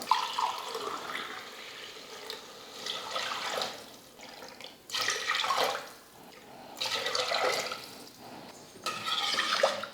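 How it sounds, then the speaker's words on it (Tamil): Water pours steadily into a pot of raw rice and split moong lentils for vegetable pongal, a splashing flow in several bursts with short pauses, close and moderately loud. "இதே டம்ளரில் 1 டம்ளருக்கு 3 டம்ளர் தண்ணி சேர்த்துக்கலாம்."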